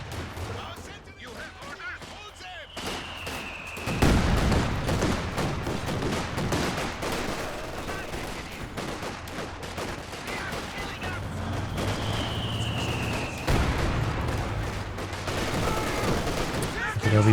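A Company of Heroes 2 battle rages with a heavy mortar impact and constant gunfire, a dense, loud din of shots and blasts with sharp hits around the start and again later.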